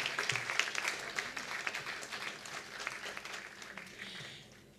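An audience at a theatre award ceremony claps steadily but quietly from a distance, and the applause gradually thins out.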